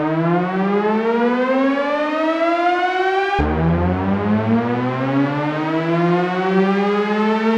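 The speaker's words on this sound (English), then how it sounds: "So let's go to our next sound, which is a riser." A synth riser sound effect sweeps steadily upward in a bright, buzzy siren-like tone, then drops and begins a second slow rising sweep, loud and continuous.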